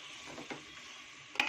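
Ginger garlic paste sizzles steadily in hot oil while cooking for a Telugu-style chicken curry, a soft continuous fry with a brief louder crackle near the end.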